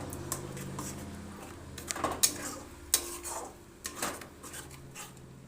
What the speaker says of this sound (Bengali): এইভাবে নেড়ে নেড়ে জলটা শুকিয়ে নেব।